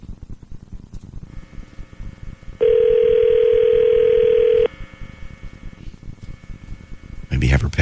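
A telephone call to an office line rings through and connects to voicemail, with a steady tone of about two seconds over a faint hissing line and a voice starting near the end.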